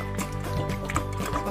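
Cut potato pieces are dropped into a bowl of water for washing in a home kitchen, giving soft splashes and liquid sloshing at close range, steady and moderately loud with no talking.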